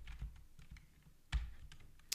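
Keys clack steadily on a new computer keyboard in a quiet room, with a soft, uneven rhythm of taps and one slightly heavier keystroke midway, close and faint with no talking.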